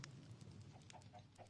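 Chickens cluck faintly in the Minecraft video game, several short clucks in a quiet basement setting over a low background hum.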